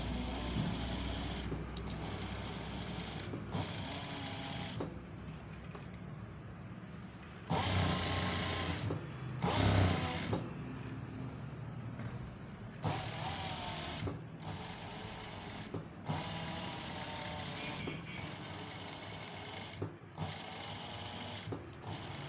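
A sewing machine stitches a pot-neck line on fabric, running in bursts of rapid mechanical whirring separated by short pauses.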